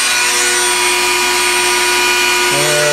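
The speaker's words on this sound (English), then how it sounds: "We're going to turn the machine on, start our spindle" A CNC machine spindle starts up and runs for a squares-and-circles test: a steady high whine with a tonal shift near the end as the spindle kicks in, loud and close, with no talk.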